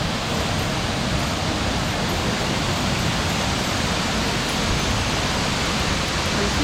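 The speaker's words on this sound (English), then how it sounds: "It's now the real waterfall here." Kenyan waterfall pouring in a steady, dense roar of white noise, close and unbroken for the whole stretch, with no voices over it.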